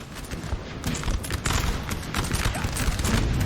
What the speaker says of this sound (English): Oh, artillery's up now.